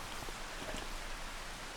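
Steady in-game rain in Farming Simulator 25, a continuous broadband hiss of drops falling on surfaces, even and moderately loud throughout with no voices.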